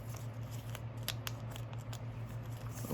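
Sheets of paper being folded and creased by hand while making a paper ninja star, faint close crinkling and rustling with brief sharp crackles.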